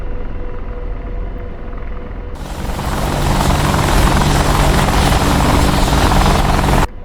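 An AH-64D Apache helicopter hover taxiing in the DCS flight sim: a steady rotor and turbine drone that swells loud and thick midway, holds as a dense roar, then cuts off abruptly at the end, with no talk.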